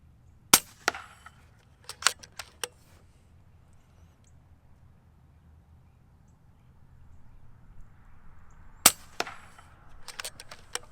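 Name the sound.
FX Dreamline air rifle shooting a 5-shot group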